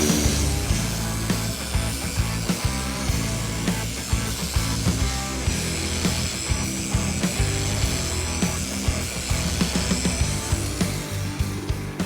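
A power polisher runs at a lower speed while it works Silverwax polishing paste. Its motor gives a loud, steady whirring drone with slight rhythmic rubbing throughout.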